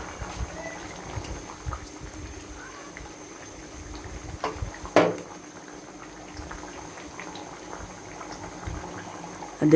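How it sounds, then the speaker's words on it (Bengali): Curry simmering in a covered pot, a soft steady bubbling and burbling with a couple of brief clatters, faint and close throughout. "আমার তরকারিটা উতরাচ্ছে"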